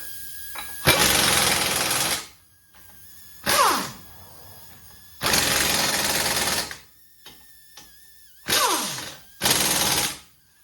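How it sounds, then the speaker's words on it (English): A noisy air impact tool tightens big brake bolts on a 2011 Dodge Grand Caravan during front pad and rotor work, firing in five loud, close, rattling bursts with short pauses between. "This hose is noisy."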